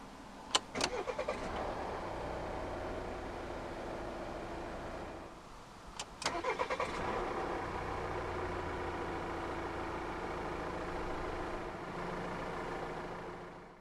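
The 2.0-litre D5 diesel engine of a 2016 Volvo XC90 Momentum AWD cranks briefly and catches, then settles into a steady low idle, heard close up with a couple of clicks and clunks before and during the start.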